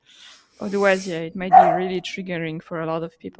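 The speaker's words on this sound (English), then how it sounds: "Sorry about my dog barking." A pet dog in the room gives a few high yips and barks while a person keeps talking over them in a podcast conversation.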